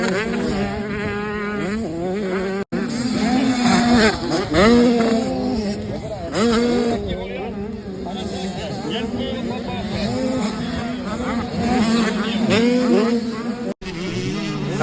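Motocross motorcycles race at an Elite Motocross final in Iffendic, several high-revving engines whining and buzzing at once with constantly rising and falling pitch, loud and continuous as a commentator talks over them.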